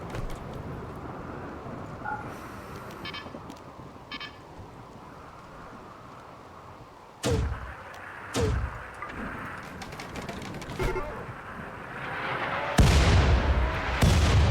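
Mortar artillery fire during a siege in the RimWorld video game, several heavy booming impacts spaced a few seconds apart over a quieter game ambience, the last blast the loudest.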